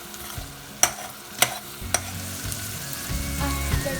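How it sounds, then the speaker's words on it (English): Carbonara ingredients are stirred in a frying pan, giving a few sharp utensil clacks against the pan followed by a low continuous sizzle and scraping, close and loud. "Then stir."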